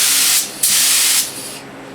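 A paint spray gun lays a second coat on a car in two loud, close hissing bursts separated by a brief pause, the second trailing off into a softer hiss.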